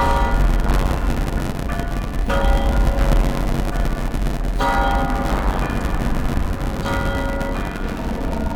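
Repeated tolling of a bell in the video game Death Stranding, with resonant strikes every couple of seconds that ring on over a thick, rumbling ambient backdrop and no talking.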